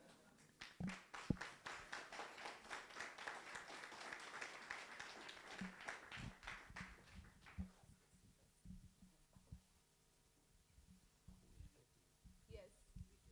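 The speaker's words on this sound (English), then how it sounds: "Those who can clap, that would be amazing." Scattered audience applause at a report launch on online health scams, a burst of hand claps over the first several seconds that thins into sparse taps and murmuring voices.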